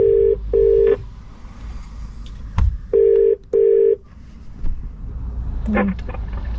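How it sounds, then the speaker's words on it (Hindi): A telephone call rings unanswered, with two pairs of steady electronic ringback tones repeating clearly over low background hum before a brief click and a short beep. "फोन क्यों नहीं उठा रही?"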